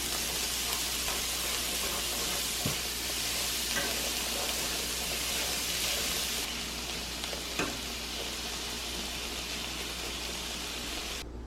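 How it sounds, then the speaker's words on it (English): Onions frying in a pan for dal curry give a steady, close broadband sizzle throughout, with a few faint clicks of stirring and no talking. "While those onions cook,"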